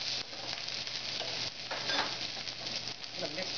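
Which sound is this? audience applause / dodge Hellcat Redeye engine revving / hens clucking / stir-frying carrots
stir-frying carrots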